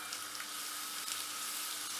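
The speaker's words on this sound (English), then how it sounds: "How do I make sure my oil is hot enough? Well, I should hopefully hear this sizzle." A soft, steady sizzle of onions frying in hot oil, crackling evenly throughout at a low level.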